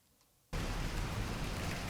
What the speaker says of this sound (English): here we're going to find some of the clips that have rain and thunder